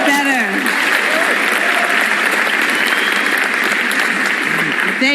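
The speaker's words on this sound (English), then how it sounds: "can we do another round of applause?" A Nigerian audience gives a sustained round of warm applause, dense and continuous clapping filling the room for the whole stretch, with cheers and voices mixed in.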